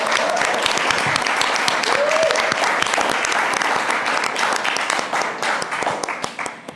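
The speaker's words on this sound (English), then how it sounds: "A huge round of applause for everybody here." An audience at a gathering about fighting fossil fuels breaks into a long round of dense applause with a few whoops, steady and close before tapering off slightly at the end.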